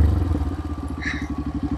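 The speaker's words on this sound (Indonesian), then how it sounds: "Ini ada traktor nih." A tractor engine chugs past nearby at a rural waterfall site in Wonogiri, its steady low, rapid knocking loud throughout, with a brief higher whine midway.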